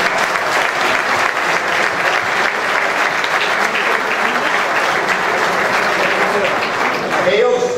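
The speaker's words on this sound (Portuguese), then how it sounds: "Para eles todos, uma salva de palmas." Sustained, dense applause fills a hall at a Setúbal football association's 90th anniversary ceremony honoring local football clubs, loud and steady throughout with crowd murmur beneath.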